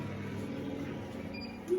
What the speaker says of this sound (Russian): Кондиционер шумит.